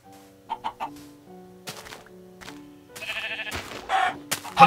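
Chickens cluck in a video game, several short calls early on, followed by denser bursts of game sound effects and clattering that end on a loud hit.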